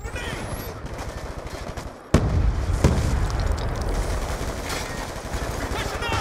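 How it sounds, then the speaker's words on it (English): In Black Ops 2 online play on Wii U, a thrown grenade bursts with a sharp, loud blast about a third of the way in, followed by ringing rumble amid continuous gunfire and game voices talking. "Throwing grenade!"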